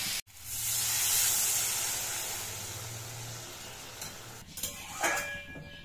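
Chhana whey water goes into a hot cooking pot of potatoes, setting off a loud hiss that slowly fades, followed by a few clinks of utensils against the pot near the end.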